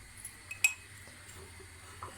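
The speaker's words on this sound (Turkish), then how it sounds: "Ben iki kaşık koyuyorum." Spoon clinking against a glass cup as coffee is added, a few faint light taps and one sharper clink, close and quiet.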